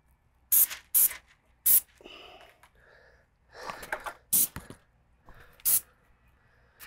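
An airless paint sprayer lays down paint in several short, sharp bursts of hissing spray separated by quieter gaps with faint background rustling.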